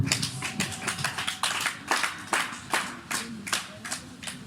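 A church congregation applauds Jesus with rhythmic hand clapping, a steady pattern of sharp, fairly close claps in regular beats lasting several seconds, with no speech over it.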